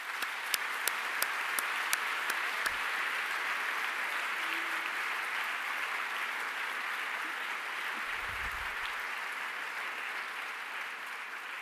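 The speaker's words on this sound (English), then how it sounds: "let's give all your supporters a big round of applause" A graduation ceremony audience applauds steadily from a distance, a broad even wash of clapping that holds for about twelve seconds with a few sharper claps standing out near the start.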